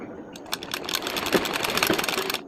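A sewing machine runs in a steady fast rattle of stitches while stitching the neckline of a half banian, loud and close, with short pauses in the rhythm.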